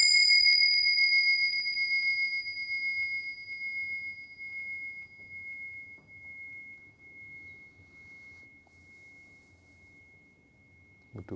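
A single struck bell rings and slowly decays, its tone wavering with a slow, pulsing wah-wah beat as it fades over several seconds.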